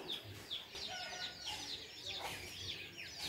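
A hen clucks softly with her chicks on a small family farm, faint high peeping of the chicks running throughout over a quiet outdoor background.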